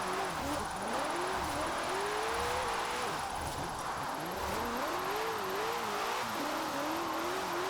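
A drift-built GT car in Forza Horizon 4 drives continuously with a steady engine drone, its pitch swooping up and down as the throttle is worked, sounding loud and close throughout with no pauses.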